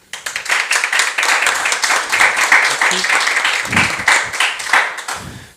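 A studio audience welcomes podcast guests with warm applause that swells quickly to a steady clatter of clapping, with a few voices and cheers mixed in before it thins at the end.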